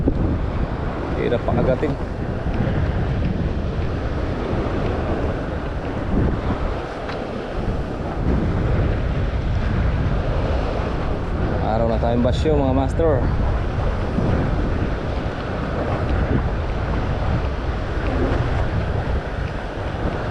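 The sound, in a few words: strong ocean waves after a storm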